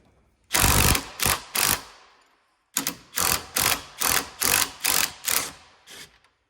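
A ratchet wrench loosening 19 mm bolts on the top shroud of a Freightliner 114SD truck radiator, close and loud, three fast clicking bursts, a pause, then seven more regular strokes.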